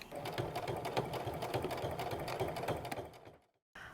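A sewing machine stitches fabric for a basket in a fast, steady mechanical rattle, running loud and close for about three seconds before stopping briefly and then starting again.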